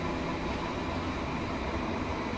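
A steady, continuous rumble of a video game train, a Class 150, running, broadband and even throughout, with no talking.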